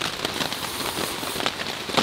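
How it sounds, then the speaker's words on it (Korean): Heavy rain patters on a backpacking campsite in a forest, a dense crackling hiss with scattered louder drops, close by and continuous. "빗소리가 너무 커가지고 말소리가 잘 들릴지"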